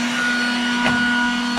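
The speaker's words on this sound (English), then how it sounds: "I'm going to put the vacuum cleaner on it, but in reverse, so then blow out" A vacuum cleaner running in reverse blows air into a Jaguar MK2 fuel tank to clear out gas, giving a loud, steady, close whine with a strong constant hum.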